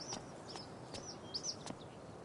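A bird calls in the video game Life is Strange: True Colors, giving several short, bright chirps spread across a quiet background. The calls are faint and come and go.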